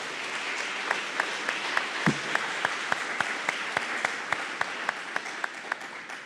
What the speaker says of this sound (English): ask the audience to give you all a round of applause for your service and work